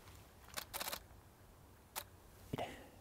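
Camera shutter firing at 1/8 second with the aperture at f/10: a few crisp mechanical clicks, one a longer open-and-close double burst, spread over a few seconds against quiet background hiss.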